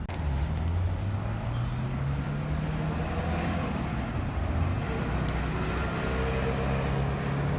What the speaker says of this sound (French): La Ferrari F355 Spider.